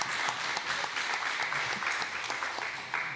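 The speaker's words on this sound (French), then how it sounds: "Un peu d'applaudissements pour nos invités du jour," Audience applause for guests at a sailing race skippers' event, steady dense clapping from a crowd throughout, fairly close and even in level, with no talk over it.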